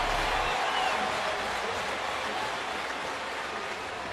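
A ballpark crowd cheers and applauds for a batter stepping up to the plate, giving a broad, steady wash of clapping and voices that eases off slightly toward the end.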